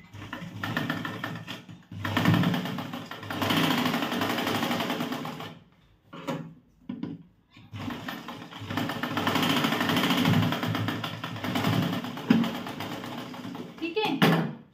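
Electric sewing machine stitching the shoulder seam of a blouse, running in long steady bursts with short pauses and a backstitch lock at the start, close up under intermittent talk.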